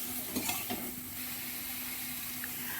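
Raw green mango with turmeric, sugar and spices frying in a pan at home, giving a steady sizzle with a few soft scrapes of stirring near the start and no voices.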